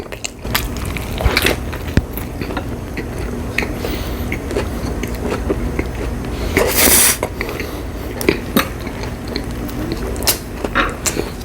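A white garlic chicken burger is eaten close to the microphone in a mukbang, with loud crunchy bites, chewing and crackling at an irregular pace and occasional louder bursts.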